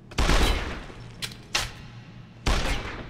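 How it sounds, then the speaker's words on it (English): A shotgun fires in Deus Ex: Human Revolution in three loud, booming blasts spaced about a second apart, with a faint short pop between the first two. Each blast has a brief heavy tail. "we're going to be using a shotgun"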